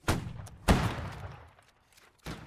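Musket volley fire in the video game Holdfast: Nations At War during a line battle, with two loud, close broadband blasts and a fainter third shot at the end, each decaying into a rumbling tail, with no talk.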